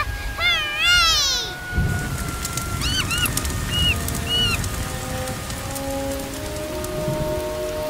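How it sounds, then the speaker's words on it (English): Steady rain patters on a surface throughout, in The Legend of Tarzan, with a few bird chirps and a meowing call early on, close and moderately loud. "Hey, it's raining!"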